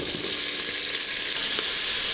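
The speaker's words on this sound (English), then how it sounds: "Now we're going to add the onions." Onions fry in rendered bacon fat in a pan, giving a bright, steady sizzle and crackle close by with no pauses.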